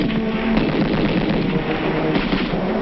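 Dense wartime gunfire from a 1942 propaganda film, a continuous barrage of shots and bursts at steady loudness with no pauses, heard without speech.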